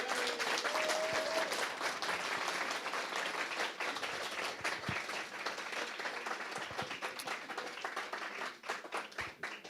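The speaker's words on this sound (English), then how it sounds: "One last big round of applause for all of our contestants tonight." A crowd applauds contestants at a songwriting competition in Johnson City, Tennessee, with dense, sustained clapping close by that thins slightly toward the end.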